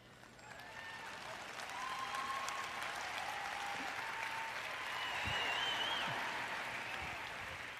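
An audience at a sermon breaks into applause, with a dense, sustained clapping that swells slightly and holds steady for several seconds, filling the hall.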